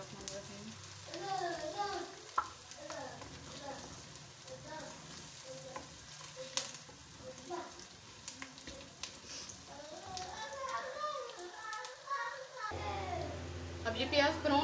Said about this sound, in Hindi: अब इस प्याज को हम ब्राउन कर लेते हैं।